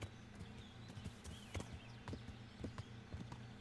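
Horse hooves clip-clop along in the video game Kingdom Come: Deliverance, a steady rhythm of moderately loud hoofbeats over continuous ambient game sound, with no talk.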